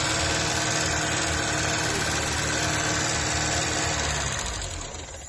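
A Chrysler Alpine car engine with an idle problem runs at a steady, loud, close idle, then drops in level during the last second.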